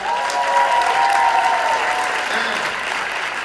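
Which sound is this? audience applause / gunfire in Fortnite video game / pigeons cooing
audience applause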